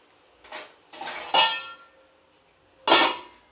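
A metal lid goes onto a pot of mutton curry with coconut milk and raw mango, producing several close metallic clanks and rattles, then a pause before one final clang.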